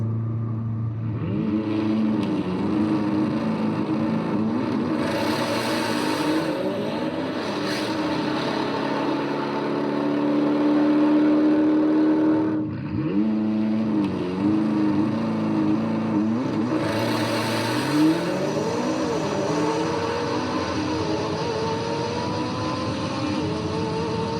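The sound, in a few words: McLaren accelerating with launch control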